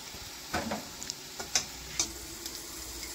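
Panch phoron spices frying in oil for a lauki (bottle gourd) curry, with soft steady sizzling and a few sharp crackles and pops as the seeds hit the hot oil, no voices.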